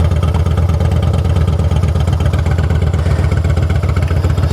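Victory cruiser motorcycle engine running steadily on a ride, a loud, close, low-pitched rumble with an even pulsing beat and no speech.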